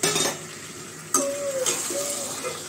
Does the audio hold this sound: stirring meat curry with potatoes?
yes